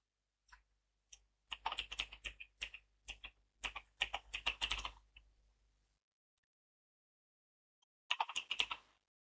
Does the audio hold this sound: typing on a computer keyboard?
yes